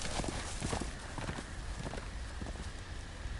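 Horse hooves clip-clop steadily in Game of Thrones: A Telltale Game, a brisk walking rhythm of close, repeated knocks over a dense ambient wash.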